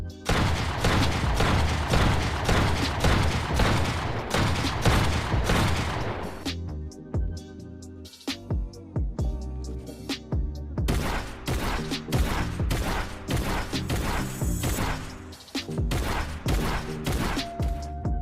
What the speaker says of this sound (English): the brand new shotgun actually has a different shooting sound compared to PC